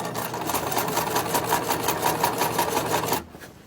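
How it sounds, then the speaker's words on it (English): A sewing machine stitching seams on a reversible fabric tote runs in a steady, fast rhythmic whir for about three seconds, then stops abruptly, leaving near silence. "Back to the sewing machine."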